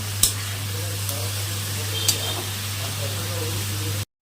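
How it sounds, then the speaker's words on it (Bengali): Mustard greens sizzle in a hot pan with a few sharp clicks from stirring over a low steady hum, and the sound cuts out abruptly at the end. "এখন এটা ভালো করে ভাজা করে নিতে হবে।"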